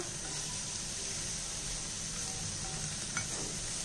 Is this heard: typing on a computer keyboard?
no